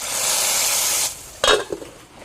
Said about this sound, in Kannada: ಈಗ ನಾನು ಇದಕ್ಕೆ ಒಂದು ಒಗ್ಗರಣೆಯನ್ನು ಇಡ್ತೇನೆ ಎಣ್ಣೆ ಸಾಸಿವೆ ಹಿಂಗು ಹಾಗೂ ಬೆಳ್ಳುಳ್ಳಿಯನ್ನು ಹಾಕಿದ್ದೇನೆ